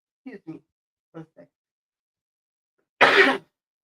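Several soft throat-clearing bursts spaced over a second and a half, then a pause and one loud, harsh cough close to the mic.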